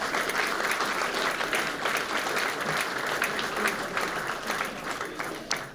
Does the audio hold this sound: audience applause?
yes